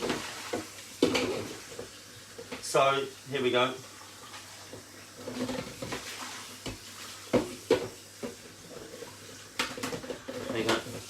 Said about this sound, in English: I know you can't see me, but you can hear me because I'm washing up.